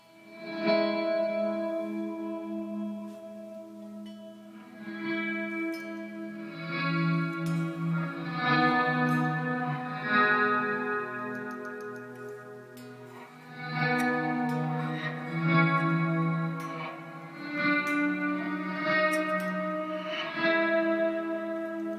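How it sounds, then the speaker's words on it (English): Sustained guitar-like chords through an Eventide Space reverb pedal, drenched in reverb with a wobbling, detuned pitch modulation, shimmering continuously without any talking. "The effects mix knob adds in some cool sort of detuning pitch modulation."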